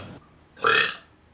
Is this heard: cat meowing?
no